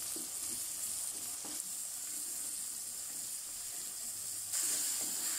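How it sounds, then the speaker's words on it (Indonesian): A sweet potato and egg mixture fries in a pan while being stirred, giving a steady close sizzle with a few soft scrapes, and it grows a little louder near the end. No one speaks. "sekarang kita kacau sebati"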